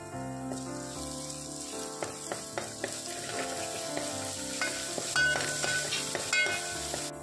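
Whole-spice masala powder sautéing in a pan for egg curry, a steady close sizzle with repeated scraping stirs and clinks of a spoon against the pan throughout.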